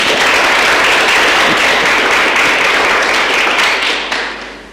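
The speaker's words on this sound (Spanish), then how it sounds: "Lo puede dar un aplauso" A class audience breaks into sustained applause, a dense wash of many hands clapping together that holds steady and then tapers off at the end.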